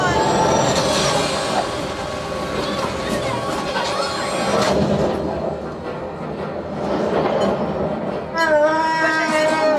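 A theme park ride train at Hollywood Studios rumbles past continuously with squealing wheel tones and rattling, loud and close, amid music and voices.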